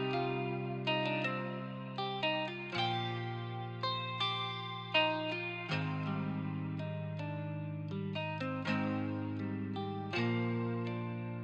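Guitar melody processed with an RC20 space reverb and a CE chorus preset, playing as a steady plucked line over sustained low tones, with a washy, spacious tail and no talk.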